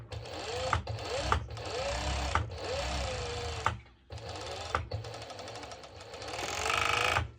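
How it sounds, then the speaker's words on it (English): Serger overlock sewing machine stitching over a skirt seam, loud close whirring bursts that stop and restart, with a short pause near the middle and a final run. "now I'm going to my serger, and I'm just literally going to serge over it"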